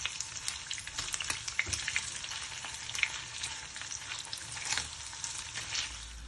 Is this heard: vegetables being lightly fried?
yes